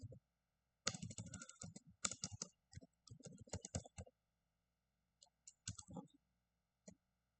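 Bursts of typing on a computer keyboard while code is written, quick clustered keystrokes in several runs separated by short pauses, fairly close and clear.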